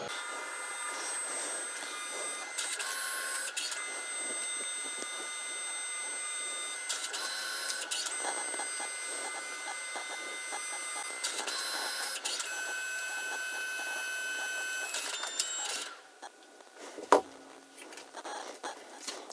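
A Canon SELPHY CP 1500 compact photo printer runs through a print, with repeated whirring feed passes and stepped mechanical pauses, then quiets down near the end, broken by a single sharp click.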